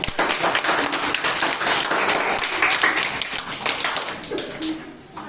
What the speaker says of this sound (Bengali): হাতটা একটা হাততালি দাও।